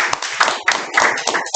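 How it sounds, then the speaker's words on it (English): Brief, close clapping from a Toastmasters club audience greeting a speaker, uneven bursts of hands in quick succession that stay loud throughout the short stretch. "Please give a huge round of applause."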